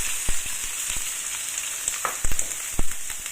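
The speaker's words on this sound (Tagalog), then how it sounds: "So ngayon, i-fry natin ang onions at saka garlic." Onions and garlic fry in hot oil in a pan with a steady, close sizzle, broken by a few sharp pops and scraping stirs.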